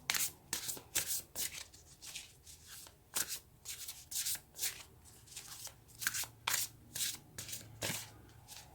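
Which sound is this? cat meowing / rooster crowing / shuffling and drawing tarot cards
shuffling and drawing tarot cards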